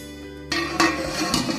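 A pot of marinated chicken for Hyderabadi biryani is covered with a lid, giving a few soft metallic clinks and scrapes close by over a steady background hum.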